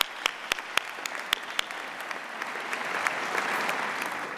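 A commencement audience applauds, with a few sharp, distinct claps at first that swell into steady, moderately distant clapping from the crowd.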